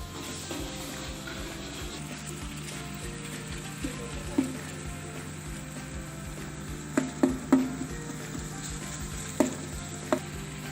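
Steady sizzling of salt, crushed red chili powder and black pepper frying in a pan, with a few sharp pops and clinks of stirring scattered throughout.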